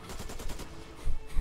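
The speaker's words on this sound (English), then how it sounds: "Every single French tank has a machine gun." Rapid bursts from a French tank's fast-firing, high-capacity machine gun in a tank video game, loud and close, with heavier low thuds toward the end.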